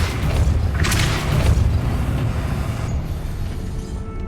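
Depulso spell cast in the video game Hogwarts Legacy: a loud booming blast with a rushing, rumbling surge that swells, then fades into quieter game ambience.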